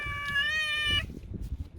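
A single drawn-out cat meow, close and clear, followed by quiet rustling.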